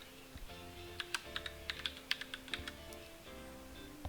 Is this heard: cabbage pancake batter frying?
no